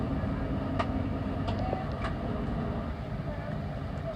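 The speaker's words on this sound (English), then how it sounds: "We're slowing down to approximately 115 miles per hour as we pass through Nebworth" An LNER express slowing to about 115 mph through Knebworth gives a steady, dense rumble of wheels and airflow from inside the train, with a few faint higher clicks over the constant roar.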